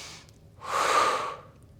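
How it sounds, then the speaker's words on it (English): A single audible exhale during a standing Pilates mat exercise, a soft breathy rush swelling for about half a second and fading, close to the microphone. "Exhale."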